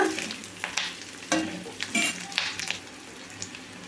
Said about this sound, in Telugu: వాటిని అయితే లైట్గా వేయించుకోవాలి చూడండి ఈ విధంగా వేగితే సరిపోతుందండి ఉల్లిపాయ